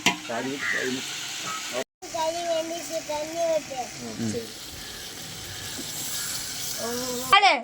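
Chicken biryani masala sizzles and fries in a pot after yogurt is poured in, cooked outdoors by a family in a Krishnagiri village; the frying runs under people talking and children's voices, with a brief cut midway.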